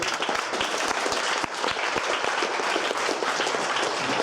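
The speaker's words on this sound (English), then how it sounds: "just give everybody a round of applause then" A crowd applauding at a junior hackathon event, continuous mid-distance clapping with a few sharper individual claps standing out, steady for several seconds.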